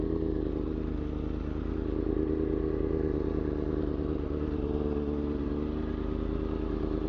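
A motorcycle idles and rumbles at low speed while being pulled into a parking spot, a steady close engine drone with light clatter and no talk.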